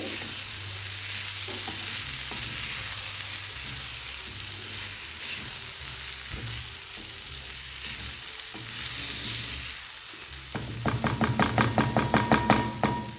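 Bottle gourd curry is stirred in a pan, giving a steady scraping, sizzling bed of cooking noise with soft hums underneath, then a louder run of rhythmic spoon strokes near the end.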